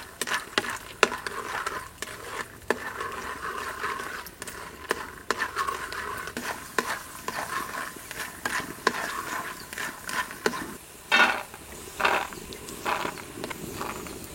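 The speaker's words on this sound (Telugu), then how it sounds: "నూనె వేడెక్కగానే పల్లీలు వేయించుకుని పక్కన పెట్టుకుందాం." Peanuts fry in about two spoons of hot oil for gongura pulihora, with irregular crackling and scraping stir sounds running throughout at close range.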